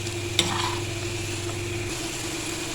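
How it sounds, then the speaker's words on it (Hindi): French fries deep-frying in hot oil for masala fries, a steady close sizzle and bubbling hiss running throughout with one brief clink near the start. "अब हमने इसको इतना फ्राई करना है कि ये बिल्कुल क्रिस्पी हो जाए"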